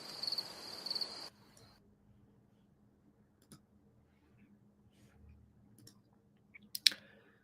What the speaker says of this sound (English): We're hearing crickets in here now